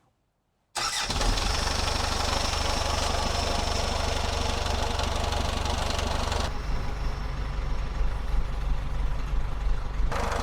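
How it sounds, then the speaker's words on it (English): A winterized sailboat's inboard engine cranks and catches after a moment of silence, then runs at a steady, loud idle with a rough, knocking chug, the tone shifting slightly partway through. "Our boat engine survived the winterization."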